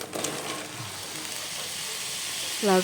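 Chopped bottle gourd hits hot, nearly cooked spice paste in a pan for an egg curry, giving a steady, close hiss of sizzling that holds throughout, with a short tonal squeal near the end.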